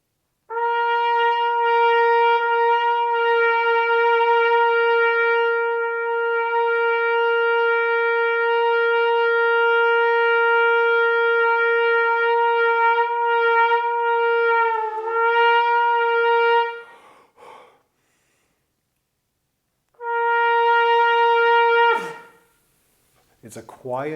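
A bright, sustained trumpet tone held steadily for a long stretch, then a pause and a second shorter held note, clear and ringing.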